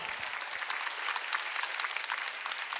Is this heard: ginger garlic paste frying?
no